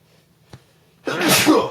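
A single loud sneeze bursts out near the mic after a short quiet stretch with a faint click.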